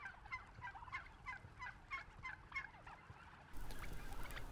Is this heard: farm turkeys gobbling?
yes